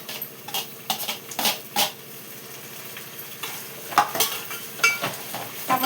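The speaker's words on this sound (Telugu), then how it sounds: "ఆనియన్స్ వేగిపోయింది, టమాటా వేసేసుకుందాం" Chopped tomatoes stirred into fried onions in a pan keep up a low sizzle under repeated spoon scrapes and clinks against the pot, a rhythmic series of close stirring strokes with no talking.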